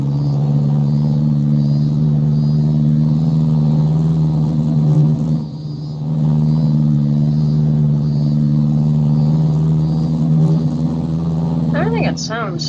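A beater car's engine in the Midnight racing video game drones with a loud, rough, low rumble that holds steady and briefly dips before resuming, with a voice talking over it near the end.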